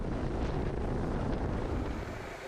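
A helicopter flies close to a high-voltage power line mast during line construction, a continuous broad roar mixed with wind buffeting that stays steady and loud throughout.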